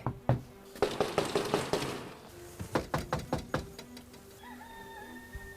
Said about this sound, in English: Ring the doorbell, give her a knock.